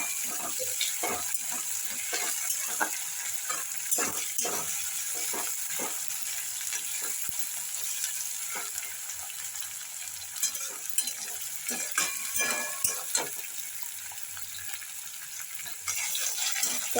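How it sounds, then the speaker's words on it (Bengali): Chopped tomatoes frying in oil in a pan while being stirred, with a quiet background sizzle broken by repeated scraping and clattering stirring strokes, close and without talk. "এইটা একটু ভাজা ভাজা করে নিই টমেটোটা, যাতে কাঁচা গন্ধ না থাকে।"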